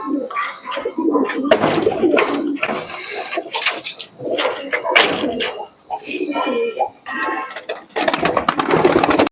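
Pigeons, including Andra, Tippler and Madras breeds, coo and flutter nearby in a busy, cluttered space, with occasional clattering and a person talking intermittently.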